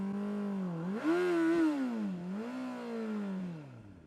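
A Honda CBR600RR motorcycle engine revs during a burnout, a loud tonal whine that rises, dips and climbs again as the throttle is worked, heard close and alone.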